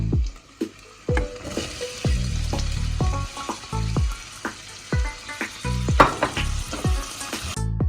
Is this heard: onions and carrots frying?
yes